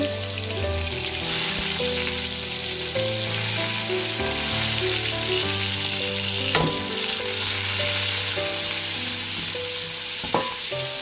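Onion stir-frying in a pan for pancit guisado with already-cooked prawns, a steady close sizzle with soft stirring scrapes and a couple of sharper clinks, with no talking.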